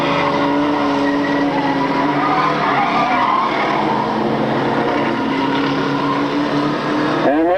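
Race cars roar and skid around the track at the finish of an event, a loud continuous engine drone with tire noise, close and without talk.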